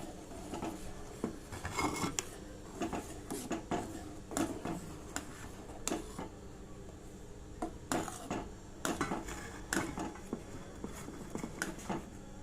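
Beaten rice flakes stirred into boiling milk in a pot, a quiet close rasping scrape with irregular taps and knocks of the spoon against the pot, and no talking.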